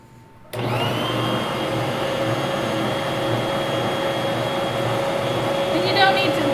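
An electric hand mixer whirs steadily through pumpkin cake batter of eggs and nutmeg, starting abruptly and running as a continuous motorized drone with a slight rise near the end.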